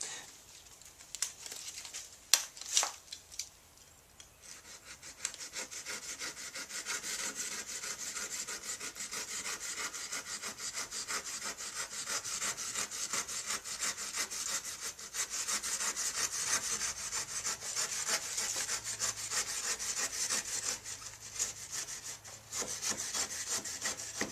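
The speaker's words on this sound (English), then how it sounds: "Nice and easy to cut when it's just about green." Edge of a partly cured fiberglass deck board on a mini-pontoon boat being cut, heard as a steady, close rasping saw sound that runs almost continuously after a few brief scrapes at the start.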